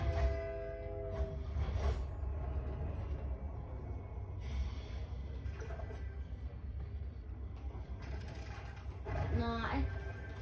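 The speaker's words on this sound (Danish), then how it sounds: "Toget kommer, skal vi på toget?" A train rumbles past in a video game with low continuous rolling, clanking and mechanical rattles, while players talk over it.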